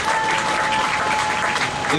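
A crowd at an outdoor candlelight protest rally with writers applauds a singer, a loud, unbroken burst of clapping with faint voices beneath it.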